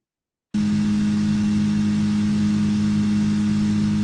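Processed car engine and exhaust sound design from Unreal Engine 5, a steady sustained hum with a strong low tone, starting abruptly after half a second of silence and holding evenly.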